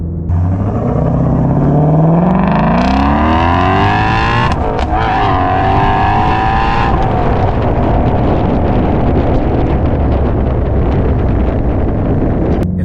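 A Shelby GT350's loud exhaust roars as the engine revs up through rising gears with a shift midway, then settles into a rumbling, wind-buffeted drone.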